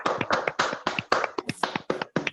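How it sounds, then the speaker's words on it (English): An audience claps for a month-end prize winner, a quick burst of sharp, close hand claps in a steady rhythm, loud and with no voices over it. "everybody give a huge round of applause to her"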